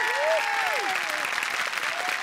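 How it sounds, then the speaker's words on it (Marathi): Loud, dense applause from an audience at a film event greets the guest Jyoti Subhash. The clapping is continuous and steady throughout, with a few whistle-like tones rising above it. "जोरदार टाळ्या ज्योती सुभाष यांच्यासाठी झाल्या पाहिजेत"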